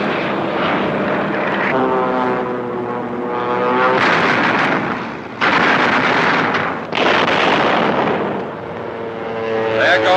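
WWII P-47 Thunderbolt fighters flying past, a loud droning roar of radial propeller engines that swells and shifts in pitch, with abrupt bursts of sound through the passes.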